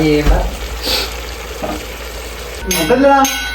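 Chicken stir-frying in a pan for a spicy chicken roast, a brief crackling sizzle with scraping and stirring, moderately close, with faint voices in the background.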